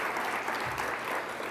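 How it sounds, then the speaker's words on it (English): Audience applause at the National Religious Leadership Roundtable's tenth anniversary celebration, a brief, steady burst of clapping from an indoor crowd with no speech over it. "Yeah, we'll have some applause."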